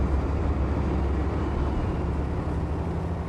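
A tank engine runs in the Steel Beasts Pro PE combat game, a steady low rumbling drone holding even and constant throughout, with no talking.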